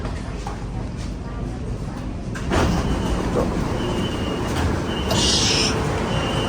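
A Bangkok metro train runs with a steady, close rumble and rising hiss, while an announcement voice and nearby talk carry over the noise.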